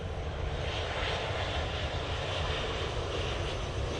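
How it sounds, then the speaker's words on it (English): A Ryanair jet landing at Manchester Airport gives a steady, loud broadband engine roar that holds even throughout, with no voices. "Ryanair coming down."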